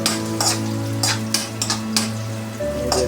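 Chopped onions fry in a pan as a utensil stirs them, with repeated scraping strokes over a continuous soft sizzle, close by.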